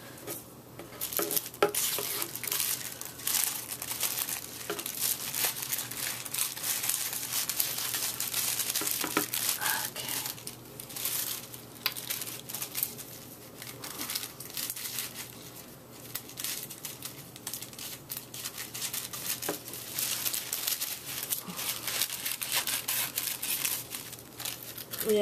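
Dull scissors cut out a 1955 Simplicity paper dress pattern, giving a continuous crisp snipping and rustling of paper that rises and falls in short strokes, close by and moderately loud.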